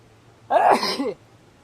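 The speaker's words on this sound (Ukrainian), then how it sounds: "Но щось чихну" A single sharp sneeze bursts out close and fairly loud for about half a second, then quiet room tone returns.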